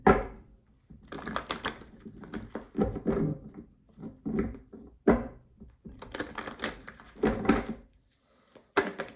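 Close, crisp bursts of tarot card shuffling, stop-start riffles and taps separated by brief pauses, with no one speaking.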